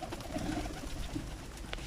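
A red dolapçı pigeon coos softly from near a coop, a few low murmuring calls over steady background noise.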